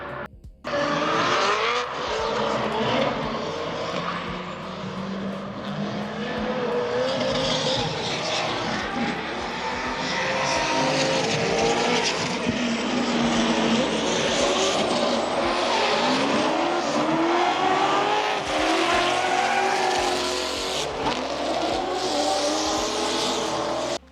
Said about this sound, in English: we are gonna go watch the last bit of drifting now